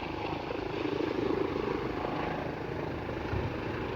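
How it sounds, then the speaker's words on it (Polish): A rescue helicopter landing: steady rotor thrum and engine whine fill the air, loud and continuous, with a low rumble swelling slightly midway through. "Chyba ląduje ten śmigłowiec"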